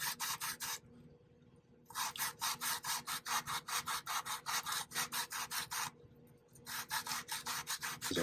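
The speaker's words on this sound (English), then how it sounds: "I'm just going to use the corner of the least rough sides on the inside of this and just kind of just sand it out" A worn nail file board rasps back and forth against the inside of a silver dollar coin ring, loud and close in steady rapid strokes, pausing twice briefly before resuming.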